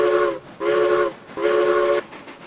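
A steam switching engine's whistle in the railroad game Railroads Online, sounding three sustained chordal blasts with short gaps between them, loud and close, with no talk over it.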